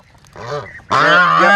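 Geese honk close by on a homestead with goslings nearby: a shorter nasal call, then a louder, sustained honk right after.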